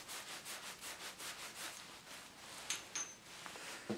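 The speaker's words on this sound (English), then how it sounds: "I'm going to clean all of the copper pipe up using the Scotch-Brite pad" A Scotch-Brite pad scrubbing the end of a copper pipe before soldering, a rhythmic back-and-forth rasping in even strokes, close and quiet, then easing into a few lighter rubs with a couple of small metallic clicks.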